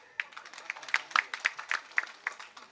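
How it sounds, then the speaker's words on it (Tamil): Scattered audience applause at a stage speech, with individual claps sharp and distinct rather than a full roar. The claps come in an uneven patter of close hand slaps, with a faint crowd murmur underneath. "அதனால் தயவு செஞ்சு நீங்களே ஒரு தடவை கைத்தட்டிருங்க."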